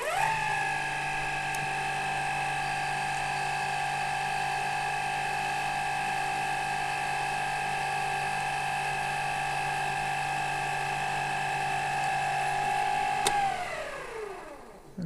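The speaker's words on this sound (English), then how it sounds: "I'm going to go a little slower on the carriage movement this time to make a more refined cut." A metal lathe takes a slow, fine final pass on a replacement humidifier part, its motor whining in a steady pitched drone that holds for a long stretch, then winds down at the end.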